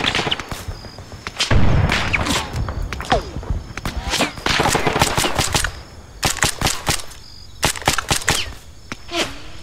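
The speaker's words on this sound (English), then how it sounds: "Enemy fire!" Heavy enemy gunfire in the Arma 3 military combat game, bursts of automatic fire and single shots crackling almost nonstop, loud and close, with short pauses between volleys.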